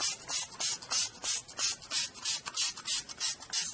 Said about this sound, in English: I can spray from this direction.